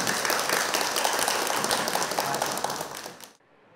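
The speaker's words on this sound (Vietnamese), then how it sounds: "Chúng ta hãy dành một tràng pháo tay để chúc mừng bạn Việt Hoàng." Loud, sustained applause from a studio audience at a televised school quiz competition, congratulating a contestant who answered correctly; dense clapping continues steadily for over three seconds and then cuts off abruptly.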